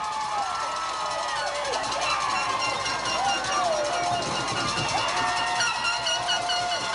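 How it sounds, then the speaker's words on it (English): A baseball crowd at a high school championship game cheers after a triple, a broad sustained roar heard at a distance beneath a commentator talking. "Listen to this crowd."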